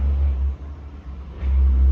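A truck passing by outdoors, heavy low engine rumble that swells, dips briefly and builds again, loud and close throughout.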